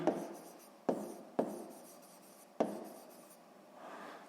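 A pen writes numbers by hand on paper in a quiet room, with soft scratchy strokes set off by several sharp taps as the tip touches down, each stroke trailing away.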